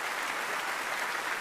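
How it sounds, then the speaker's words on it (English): Comedy festival crowd in Winnipeg claps steadily for a stand-up comic, a brief, even burst of dense applause with no gaps. "clap it up for that"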